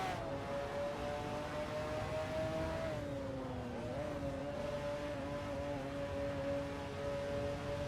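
AI-driven supercars race around Zolder in a racing video game, a sustained engine whine that climbs and shifts pitch as the cars pass, steady and mid-distance with no voices.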